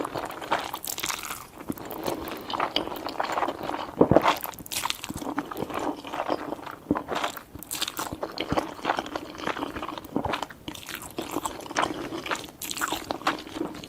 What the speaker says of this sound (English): I can't imagine why you'd want to listen to chewing and people smacking their lips.